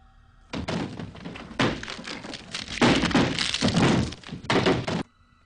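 Furniture, including a small bunk bed, being smashed apart with a crowbar or hammer: repeated loud, close crashing and thudding impacts in several dense bursts, no voices.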